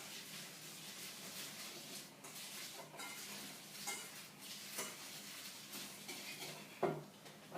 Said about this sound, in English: And mix it up.